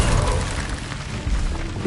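Incendio fire spell cast in Hogwarts Legacy on PS5: a loud, continuous fiery roar with low rumbling thumps, ending in a brief rising swell.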